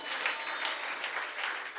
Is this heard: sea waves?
no